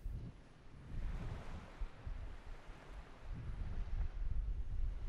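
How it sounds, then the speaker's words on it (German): Steady rushing surf with soft wind noise from video game scenery in Microsoft Flight Simulator, a continuous wash of ocean waves that swells slightly louder toward the end. "Weltklasse, ne? Mit dem Meeresrauschen."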